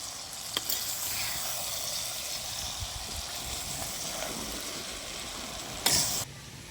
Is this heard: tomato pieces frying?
yes